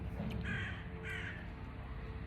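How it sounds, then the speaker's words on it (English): A crow caws twice in quick succession over steady low background rumble, fairly clear and close, with no talking. "I can hear a crow crowing away."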